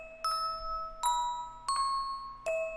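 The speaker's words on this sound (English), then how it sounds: "we also have these bells playing the melody on the top." Bright bell tones pick out a melody over a sustained Hammond organ chord, four clear struck notes at a steady, unhurried pace, near and fairly loud with shimmering overtones ringing above.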